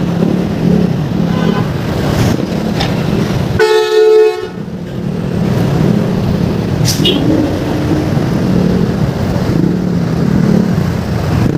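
Heavy road traffic on EDSA in Pasay beneath resurfacing work, with engines rumbling steadily and a loud car horn blaring near the middle, among several shorter honks.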